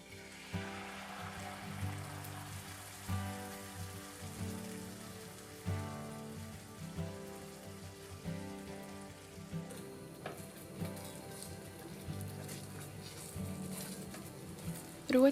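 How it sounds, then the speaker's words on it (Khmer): Canned mackerel stir-fried with garlic in hot oil sizzles and crackles steadily, a soft pattering fry close by with occasional stirring scrapes, alone without talk. "ដាក់ត្រីខកំប៉ុងចំនួន2កំប៉ុងហើយត្រូវឆាវាថ្នមៗដើម្បីកុំឲ្យបែកសាច់ត្រីខ្លាំង"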